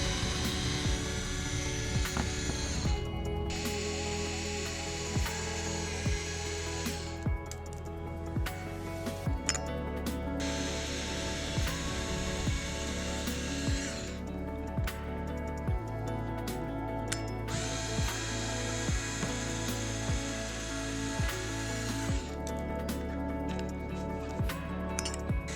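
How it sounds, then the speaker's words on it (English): A powered screwdriver backing out T15 and 7mm hex screws while a Paragon LED grille light bar is installed on a C8 Corvette, whirring in repeated bursts with clinking metal and mechanical ratcheting, steady and close throughout. "This is where I was definitely appreciating having a powered screwdriver instead of a regular wrench in this case, because there are so many you gotta get through."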